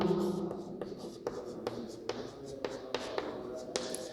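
Marker or chalk writing on a board during a biology lesson, with short scratchy strokes and taps in an irregular rhythm, close and moderately loud over faint room noise.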